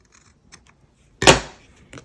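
A single crisp scissors snip trims small edges of paper for a craft project, one sharp close cut with a couple of faint handling clicks around it.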